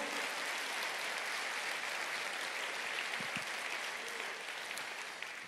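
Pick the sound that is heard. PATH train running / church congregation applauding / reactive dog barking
church congregation applauding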